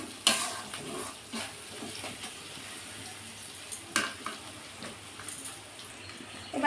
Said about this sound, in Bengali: এটা সুন্দর করে আমি একটু নেড়ে চেড়ে কষিয়ে নিচ্ছি।